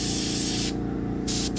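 An airbrush sprays paint in close, loud hissing bursts over a constant compressor hum, cutting off briefly and then resuming twice.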